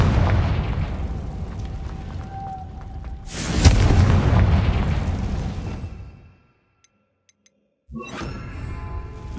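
In the video game Hogwarts Legacy, a Confringo fire spell sets off a loud, close explosion. A sudden boom rolls into a sustained rumble, cuts to silence, then a second burst follows.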